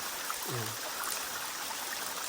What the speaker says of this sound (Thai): เรายังได้ยินเสียงน้ำไหล ตลอดเวลาเลยนะครับ